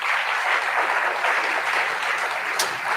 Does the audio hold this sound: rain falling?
no